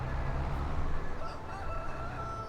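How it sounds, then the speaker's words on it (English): A rooster crows once in the Farming Simulator 22 video game, the crow rising over a steady hum of farm ambience and low engine drone. "Well, hello, Rooster."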